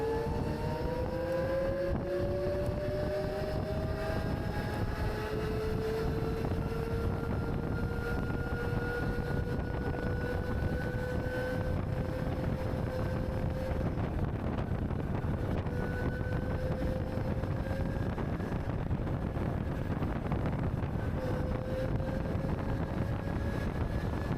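Motor scooter accelerating on a busy road in evening traffic, its engine whine rising steadily through the gears under constant wind and road rush, heard from the rider's position.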